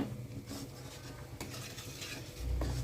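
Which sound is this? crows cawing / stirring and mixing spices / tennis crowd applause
stirring and mixing spices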